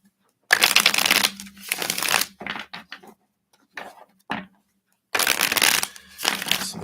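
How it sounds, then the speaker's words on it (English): Tarot cards being riffled and shuffled in several quick bursts with short pauses between, close and crisp, with light handling noises in the gaps. "So they're having me shuffle the cards here."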